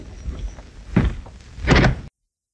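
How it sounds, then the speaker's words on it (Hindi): A door is shut with a pair of solid thuds, each a short heavy knock, the second louder, with faint movement before and silence afterward. "लेकिन दरवाजा बंद करने की क्या जरूरत है?"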